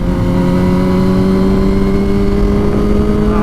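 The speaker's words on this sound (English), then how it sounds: "we're in a second gear, something like that. I mean, the bike's pretty quick." A 2006 Yamaha R1 sport bike pulls hard in second gear. Its loud, steady engine note climbs slowly in pitch and stays close and continuous throughout, with no voices.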